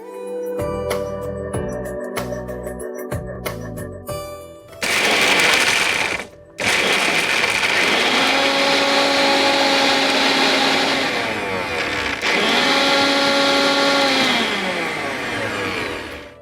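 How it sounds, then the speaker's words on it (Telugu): A kitchen mixer grinder whirs loudly while blending cooked raw banana, running in long sustained bursts with a brief stop and restart between them. "దీన్ని మనం మిక్సీ కూడా పట్టేసుకుందాం."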